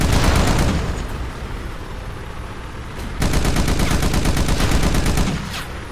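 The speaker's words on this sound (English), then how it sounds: "We've got a 50 caliber machine gun right here, and we're going to use it to gun down as many of these Americans as we" Heavy .50 caliber machine gun in the Battlefield video game fires long sustained bursts of rapid, loud shots with booming low end, briefly easing off near the middle before another dense, continuous volley; no talking.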